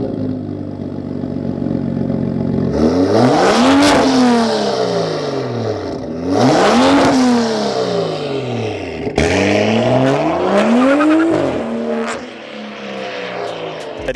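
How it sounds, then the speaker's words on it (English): A BMW F30 335i with a full 3-inch thin-wall exhaust and its resonator and muffler deleted is revved three times, each loud rise and fall ending in a raspy, crackling tail, close by with no talking. "Getting a full 3-inch thin wall exhaust pipe creates a different tone out the back."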